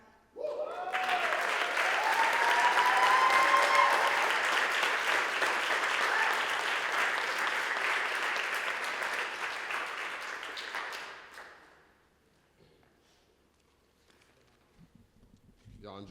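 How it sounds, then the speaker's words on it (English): Applause from an audience at a spoken-word art event, a broad, loud wash of clapping that holds for about eleven seconds, then fades out to near quiet with a few faint stray sounds. "Give her another round of applause, y'all."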